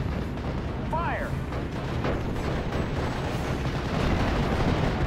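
An artillery gun firing in the WWII strategy game Steel Division: a dull, low boom folded into a continuous rumbling battlefield din, with a brief whistling call early on.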